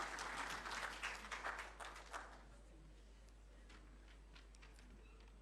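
Quiet clapping from an audience welcoming a speaker at a formal state courtesy visit, strongest at first and thinning to scattered claps as it fades.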